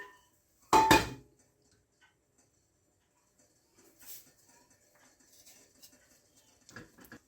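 A utensil stirs melting chocolate and butter in a pan for rocky road: one loud, close clatter against the pan, then faint, sparse scrapes and taps.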